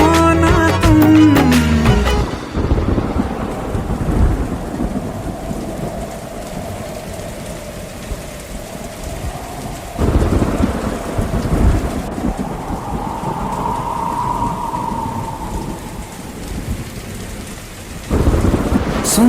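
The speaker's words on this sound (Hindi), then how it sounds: "सुन सुन सुन बरसात की धुन सुन" Heavy rain pours steadily while rolling thunder rumbles through, with louder cracks near the start and end over a continuous wash of rainfall.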